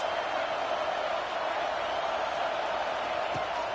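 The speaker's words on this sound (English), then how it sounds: "Listen to this crowd just shaking the girders of this place" A home crowd roars at a college football stadium, a dense, steady wall of cheering and noise that holds loud and unbroken throughout.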